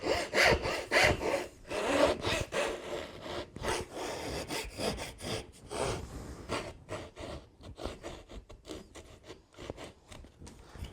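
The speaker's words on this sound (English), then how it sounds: "Now I'm going to remove the outside pieces, cutting 1mm away from the edge." Hand saw cutting away the outside wood pieces of a box joint, close rhythmic rasping strokes back and forth, steady and fairly loud, with no talking.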